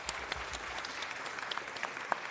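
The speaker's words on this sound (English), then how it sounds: "Now let's just give him a round of applause." A round of applause from the audience at a city council meeting, an even wash of clapping with a few sharper individual claps standing out near the front.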